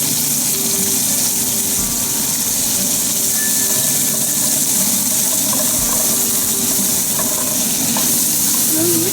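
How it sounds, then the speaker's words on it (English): Green beans stir-fry in hot oil with garlic and ginger, a loud, unbroken sizzle filling the whole stretch with a scraping stir running through it. "We're going to put the green beans in now. A little bit of oil."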